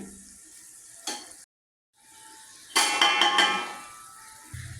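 Tomato masala with crushed red chili and dried coriander frying in a pan for chicken curry, a steady close sizzle broken by a short silence, then a louder burst of scraping and stirring clatter that fades out.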